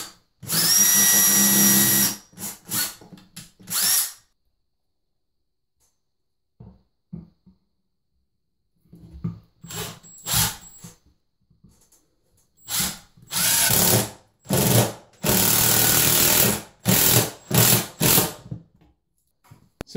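A power drill drives a 2.5-inch cabinet screw through a laundry room cabinet into a wall stud, loud and close, whirring in several bursts with silent pauses between them.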